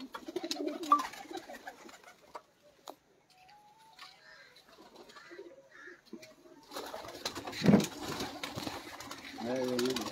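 Pigeons cooing softly in a loft where flying pigeons are kept, with scattered wing flutters and clatter, while people talk intermittently nearby.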